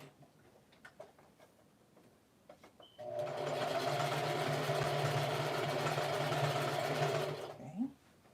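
A sewing machine set to its longest, widest stitch runs elastic onto fabric from the back seam: faint ticks first, then a steady close mechanical whir for about four and a half seconds before it stops.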